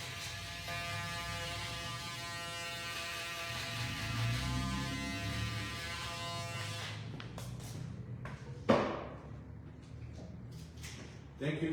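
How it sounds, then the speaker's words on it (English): Electric shaver buzzing steadily during a barber's short fade haircut, taking the hair down to the skin; a continuous close hum that cuts off partway, followed by brief clicks and handling noises. "Now that the shaver will take it down to the skin."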